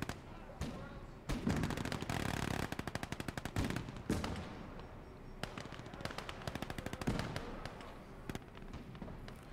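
Rapid submachine-gun bursts and grenade blasts from a Gates of Hell Ostfront battle at a farmstead, dense rattling volleys in repeated clusters with sharp booms between, loud and continuous across the scene.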